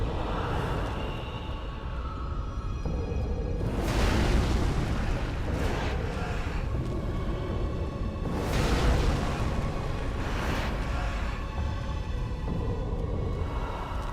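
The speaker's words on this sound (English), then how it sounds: "we kind of need her to do her explosion attack now" A boss unleashes explosion attacks in the video game Dark Souls 3, heavy rumbling bursts swelling out of a constant roaring backdrop, with two or three louder booming surges spaced several seconds apart.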